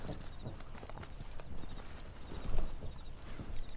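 A horse's hooves clip-clopping in Red Dead Redemption 2, a steady rhythmic run of soft hoofbeats at walking pace, mid-distance, with no speech.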